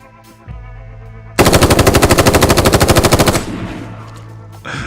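Loud, close burst of rapid automatic machine-gun fire in the Ground Branch tactical shooter, a dense rattling volley of about two seconds flanked by quieter ambient game sound.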